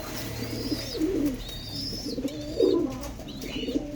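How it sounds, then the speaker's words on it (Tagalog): A pigeon, apparently an injured racing bird, coos in soft repeated low phrases with faint higher chirps, close by and steady, with no talking. "So North, inawat ko yung ibon na yan"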